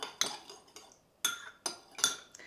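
A utensil stirring a cayenne spice mixture for tofu in a bowl, a few sharp metallic clinks and scrapes at irregular intervals, close and fairly quiet, without talk.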